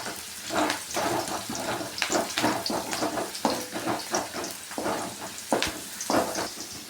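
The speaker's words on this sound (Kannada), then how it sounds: "ಈರುಳ್ಳಿ ಈ ಥರ ಫ್ರೈ ಮಾಡ್ಕೋಬೇಕು" Onions and garlic frying in a pan, a close, busy sizzle broken by repeated spatula scrapes and clinks as the pan is stirred, loud and continuous.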